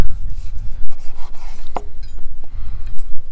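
A sharp knife slices cooked, barbecued beef tenderloin on a cutting board, giving soft repeated rubbing and rasping strokes with a few light knocks against the board, close up and with no talk.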